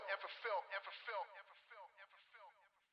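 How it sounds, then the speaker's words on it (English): Rap vocal from a UK rap mix processed through a band-limited, lo-fi mid-range delay, sounding thin and telephone-like, with repeated echoing syllables that trail off and fade over a few seconds, heard alone. "So it's a very mid-rangey kind of delay here."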